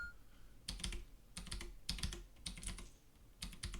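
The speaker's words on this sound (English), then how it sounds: "Are you two-handing the keyboard?" Two-handed typing on a computer keyboard: clusters of rapid, close key clicks in several bursts separated by short pauses, clear and alone with no voices.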